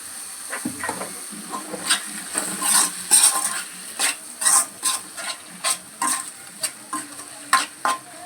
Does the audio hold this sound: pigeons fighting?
no